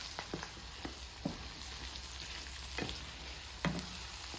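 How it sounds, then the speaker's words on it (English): Eggs and vegetables sizzle in olive oil and butter in a pan for a steak and vegetable burrito filling, a steady low frying hiss broken by a few soft scraping stirs, with no talking. "cook for about 2 to 3 minutes in that olive oil and that butter"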